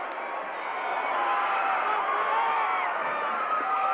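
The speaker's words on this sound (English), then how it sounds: "That cheering you're hearing is for Utah on the vault." A crowd cheers at the 1994 NCAA gymnastics championships for a vault, a loud sustained roar of voices and shouts that holds steady and swells slightly throughout.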